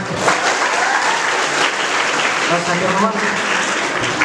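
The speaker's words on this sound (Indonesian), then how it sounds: "100 tepuk tangan." Dense, sustained applause from a large audience at a Maulid Nabi celebration at an Islamic senior high school, a steady wash of many hands clapping at once, loud and even throughout, with some voices mixed in.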